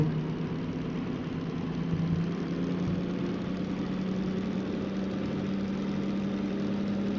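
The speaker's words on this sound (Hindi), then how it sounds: "क्योंकि इंजन अकेला दौड़ रहा है इसलिए हमको ज़्यादा लोड का पता नहीं" A DM3 locomotive in the Derail Valley railway game runs alone without a train, its diesel engine giving a steady, even rumbling drone throughout, with no voices.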